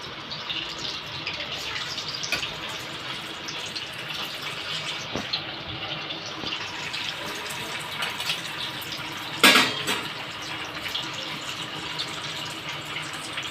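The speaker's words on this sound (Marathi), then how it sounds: "आता मी ह्यामध्ये पनीर सोडते फ्राय करायला" Paneer frying in hot, browned oil for a chilli paneer dish, a steady close hiss and bubbling throughout, with one brief louder crackle partway through.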